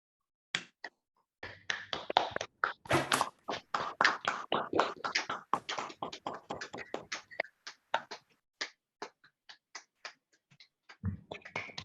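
Online audience applauding in support of women in Iran, scattered claps from many unmuted participants, irregular and uneven, starting sparse, swelling to dense clapping, then thinning out to a few isolated claps.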